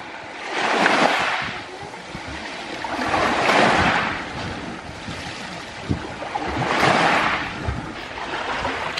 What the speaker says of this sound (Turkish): ve denizin sesini dinliyorum.